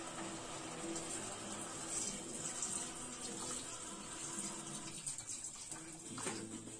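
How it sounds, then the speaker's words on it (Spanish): Water runs steadily from a tap into a cooking pot of potatoes and butifarra sausage, a continuous close splashing gush that holds through to the end. "Le voy a echar agüita hasta que cubra."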